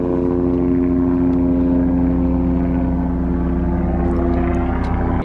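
A helicopter hovers overhead, its rotor and engine forming a loud, steady drone that continues alone and unbroken for several seconds before cutting off abruptly.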